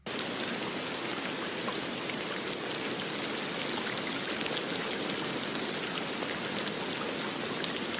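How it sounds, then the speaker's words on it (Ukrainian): Steady, dense rain pattering on surfaces, a continuous full hiss of drops with no pauses or voices. "Вірно, так шумить дощ"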